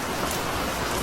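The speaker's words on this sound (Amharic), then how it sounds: "ዝናቡም እየረገጠው ነው" Rain falls steadily as a soft, even patter of drops on a surface, faint and continuous with no voices.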